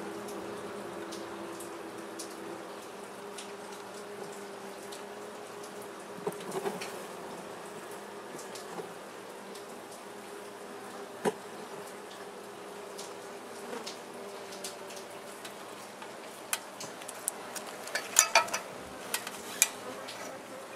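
Honeybees from a comb being cut out of a pillar buzz in a steady, moderately close drone, broken by scattered clicks and knocks of tools over about twenty seconds.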